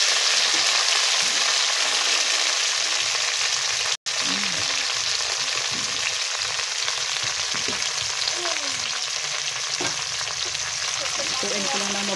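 Eggs sizzle and fry steadily in a pan for a tomato torta, a dense continuous crackle with occasional scrapes and stirring clinks, close and alone with no talk.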